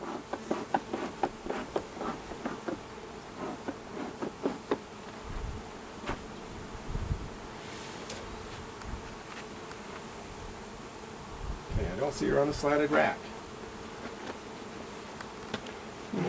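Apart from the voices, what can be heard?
honeybees buzzing around an opened beehive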